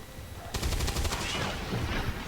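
A single gunshot fires in the video game XCOM 2, a sudden sharp crack over steady background game ambience, followed by a rattling, fading decay.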